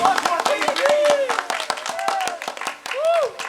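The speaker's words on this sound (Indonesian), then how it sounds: "Kita beri aplaus yang meriah untuk Gus Ahmad Thayyibin aja, Gus Ibi." An audience at a sholawat gathering applauds Gus Ibi with rhythmic, fairly loud hand clapping running beneath a prominent voice.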